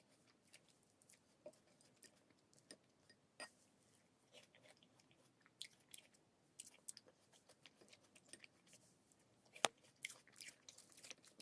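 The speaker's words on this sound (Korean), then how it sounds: "저는 이 땅콩버터에 그 씹히는 그게 너무 좋아요." Crunchy peanut butter being chewed up close, quiet irregular crunches and bites scattered across several seconds with soft mouth sounds between them.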